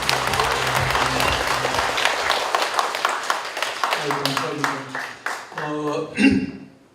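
An audience applauds at a novel's book launch, with dense clapping that thins into scattered individual claps, while a voice speaks over the latter part.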